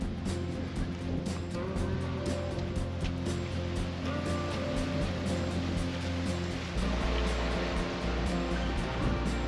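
Ocean surf washes onto the beach at Morro Jable, Fuerteventura, in a continuous broad rush, with a heavier surge near the end.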